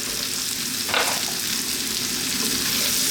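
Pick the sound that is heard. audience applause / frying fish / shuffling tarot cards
frying fish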